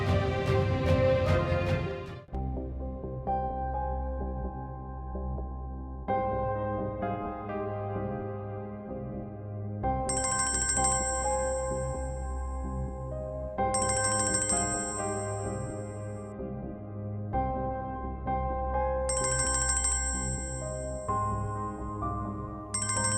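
A phone rings as a repeating musical ringtone, bursts of bright chimes recurring every few seconds over a steady low musical bed in an indoor drama scene.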